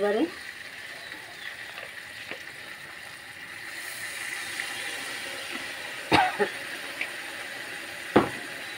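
Spice paste sautéing in oil in a pan for a Bengali kosha mangsho, a low, steady sizzle broken by a few sharp spatula scrapes and clinks, with louder knocks near the end.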